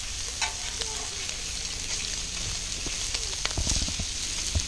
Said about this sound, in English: Got the bacon going.